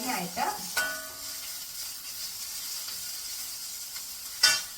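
Ingredients frying in a pan give a soft, steady sizzle, with a few clinks and stirring scrapes at the start and a sharper knock near the end.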